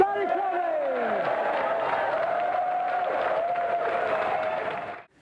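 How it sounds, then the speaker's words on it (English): A studio audience at a Sega video game championship bursts into loud, sustained applause and cheering for the European champion, a dense wall of clapping lasting about five seconds, with a voice speaking over the start, before it cuts off abruptly. "And that round of applause for the European Sega champion, Danny Curley!"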